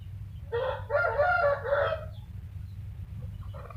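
A rooster crows loud and close in one long drawn-out call, with softer chicken clucking after it over a low background rumble, no talk.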